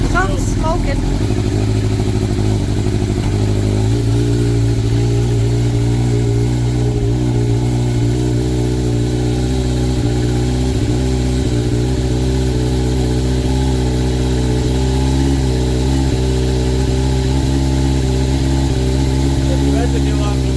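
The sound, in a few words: sportbike motorcycle engine running and revving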